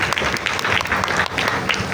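Audience applause during a Python programming class, brisk, close clapping from a room of learners that fills the whole brief moment with distinct individual hand claps.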